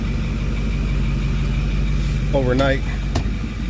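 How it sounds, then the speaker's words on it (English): A county tractor mowing a roadside ditch drones steadily at a low pitch, close by and continuous throughout, with a voice speaking briefly over the engine near the end. "The county is mowing the ditch out front here."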